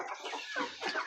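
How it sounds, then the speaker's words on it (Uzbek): Adler breed roosters cluck loudly and close in a short burst of several harsh, rising calls. "Qolgan hammasi katta xo'rozlar."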